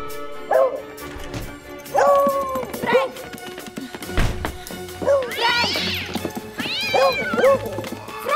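A cat in a 2017 Italian feature film meows repeatedly, loud and close, in a string of rising and falling cries. Dog barks and yips mix in at times.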